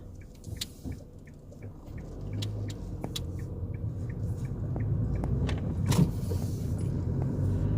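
Steady low rumble from inside a moving car, the road and engine noise gradually building, with faint clicks and small knocks over the drive.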